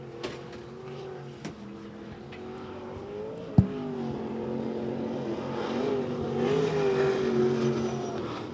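A race car laps Devil's Bowl Speedway during the Johnny Suggs Classic, its engine droning steadily and building in volume toward the end, with a sharp bang partway through.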